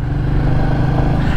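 A Royal Enfield Meteor 350 motorcycle with its original exhaust runs close and loud, its engine holding a steady low, throbbing drone.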